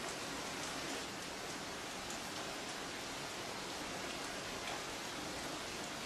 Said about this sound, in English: Then it begins to rain.